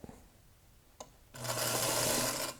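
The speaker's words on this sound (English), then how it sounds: "Let's sew this seam." A sewing machine stitches a quilt seam with a steady, dense whir that starts abruptly after a soft tap and runs evenly for about a second before stopping.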